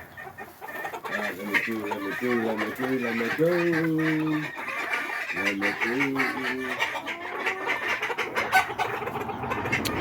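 Backyard chickens in a coop cluck and murmur in rising, tonal bursts, close and fairly loud, with a person speaking briefly among them.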